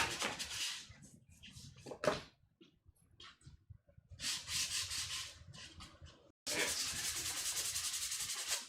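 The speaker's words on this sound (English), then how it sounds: "I gotta hit these edges up with a belt sander." A belt sander smooths the edges of Shoretrooper armor pieces in short bursts of loud, hissing abrasion, stopping and starting, then running steadily near the end.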